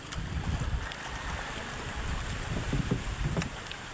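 A boat pounding over rough sea waves toward an island, with steady loud wind buffeting the microphone and the churning rumble of water and hull throughout, no voices.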